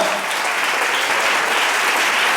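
Church congregation giving applause during a Spanish-language service, a thick continuous roar of many clapping hands, loud and even for the whole stretch with no speech on top.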